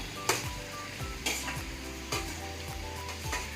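Mutton frying in a pot of oil, a steady loud sizzle broken by regular scraping stirs of a spatula against the pan about once a second.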